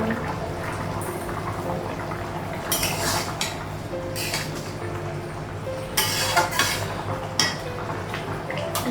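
Metal pot lid and utensils clatter in a kitchen during home cooking, a few sharp clinks standing out over a steady low background hum.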